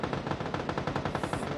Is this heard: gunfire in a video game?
yes